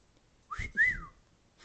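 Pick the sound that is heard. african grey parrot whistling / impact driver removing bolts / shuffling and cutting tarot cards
african grey parrot whistling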